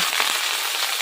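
Five-spice seeds and chili hitting hot oil for Bengali khichuri, a steady loud hiss of sizzling with small crackles throughout.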